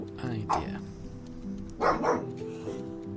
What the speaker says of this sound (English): No idea why Daruk is barking.